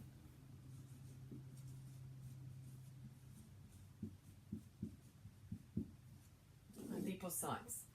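Pen strokes drawing fat cells on a surface come as a quiet series of short scratchy taps, irregular and close, over a steady low hum, followed by a brief louder rustle near the end.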